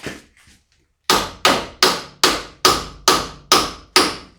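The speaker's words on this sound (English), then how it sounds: "So hopefully I can pound this thing in and" Eight sharp, evenly spaced hammer blows ring out loud and close as an axle is pounded in with a tool set under the control arm of a Kia Sportage, each strike decaying quickly, after a brief quiet pause.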